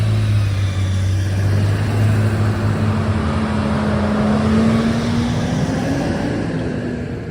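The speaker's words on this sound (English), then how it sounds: "some loud trucks behind me" Loud trucks rumble past on a San Francisco street, a close, heavy engine drone with a low tone that shifts in pitch as they pass, steady throughout.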